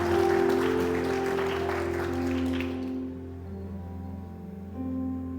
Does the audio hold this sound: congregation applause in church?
yes